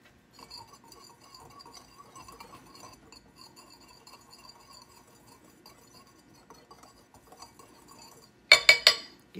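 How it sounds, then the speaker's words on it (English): Orange zest, nutmeg and other ingredients for French toast (lost bread) are stirred in a bowl, giving soft scraping and light clinks throughout, then a few sharp, louder clinks of a utensil against the bowl near the end. "give that a little stir"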